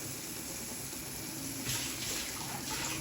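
Water pours into a pan of methi paneer bhurji cooking in oil, a steady close splashing gush lasting a few seconds without speech.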